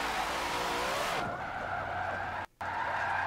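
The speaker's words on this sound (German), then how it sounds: "Ich ziehe gerade nur die Handbremse" A car in the Forza Motorsport 7 racing game skids with the handbrake pulled, its tyre noise sweeping and squealing loudly and continuously, with a brief cut to silence partway through.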